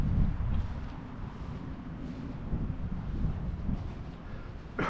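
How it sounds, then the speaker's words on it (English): Gusty wind buffets a microphone outdoors after a car's full detail, a steady low rumble with soft swells and dips throughout and no voices. "A little windy today, but sorry for the noise."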